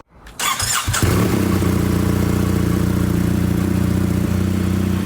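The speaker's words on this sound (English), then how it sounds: "this is just going to be a stock check of the engine noise" BMW R1300GS motorcycle with stock air filters starting up, its engine catching after a brief crank and settling into a steady, loud, close idle with a dense low throb and no talking.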